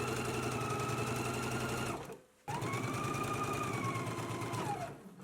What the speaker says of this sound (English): you can go ahead and stitch this in one continuous stitch using a 5/8 of an inch seam allowance